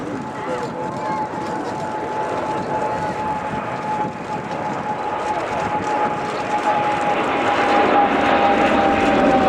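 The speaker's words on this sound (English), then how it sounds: "From the left, Royal Air Force Voyager." A Royal Air Force Voyager tanker jet flies past at an airshow, a broad rushing engine roar that swells gradually, with a faint steady whine running through it.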